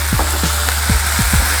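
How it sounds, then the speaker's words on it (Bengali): Spice masala for mutton korma fries loudly in a wok over a constant sizzle, with about five rhythmic scraping stir strokes cutting through at regular intervals. "আমার মশলাটা অনেকটা ভাজা হয়ে গেছে"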